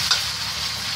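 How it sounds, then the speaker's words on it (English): Close, continuous sizzling of pork stir frying in hot oil, with a brief scraping stir near the start. "And now she's just stir frying it"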